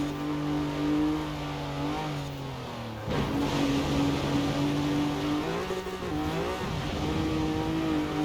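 In Forza Horizon 4, a Jeep Wrangler engine revs hard and then drops in pitch with each gear change, a loud, continuous racing drone with a sharp break at the shift, and no voices.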